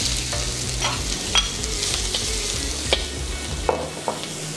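Onions sautéed in a pan while cooking Macanese minchi, a steady close sizzle with occasional scraping stir clicks from a utensil, no talk.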